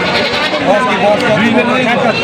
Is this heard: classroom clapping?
no